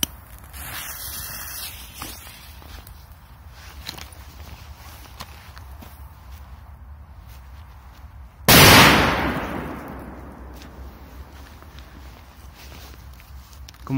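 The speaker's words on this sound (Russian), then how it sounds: "Будем взрывать мощные петарды" A single powerful Smoke Scream firecracker goes off outdoors with one sudden, loud bang that trails off in a decaying rumble, following a long stretch of quiet low background noise.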